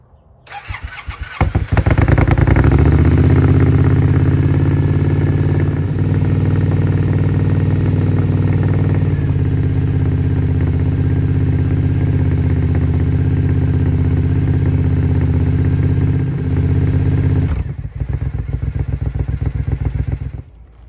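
A Triumph Scrambler 900 motorcycle starts up and settles into a steady, loud, close idle that runs unbroken for about fifteen seconds before the engine cuts off, with no one speaking.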